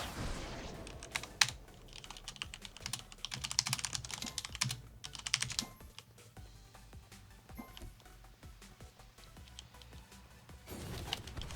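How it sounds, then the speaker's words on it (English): Rapid bursts of computer keyboard typing during a gaming session, clicky keystrokes in quick irregular runs with short pauses, close and fairly quiet, no voices. "Sitting there fucking typing"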